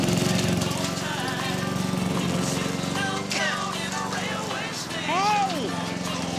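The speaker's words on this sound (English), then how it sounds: "I'm mowing Finn's lawn." A lawn mower runs steadily as someone mows a lawn, its engine droning close and loud throughout while several people talk over it.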